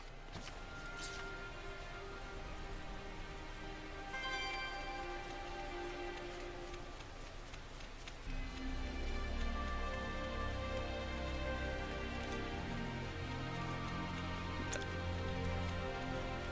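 Steady rain falls in the video game Tales of Zestiria, a continuous soft patter layered with game music and faint ticking, the wash thickening partway through.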